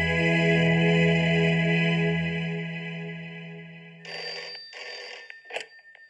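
Telephone bell ringing in a Hindi film scene, a loud continuous electronic ring that fades and then breaks into shorter repeated bursts, alone with no talking.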